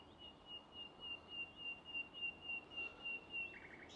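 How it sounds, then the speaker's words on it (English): A common nightingale sings at a distance beside a protected nature site, a thin sustained whistle with small chirps laid over steady low background rumble, faint and unaccompanied by voices. "Common nightingale."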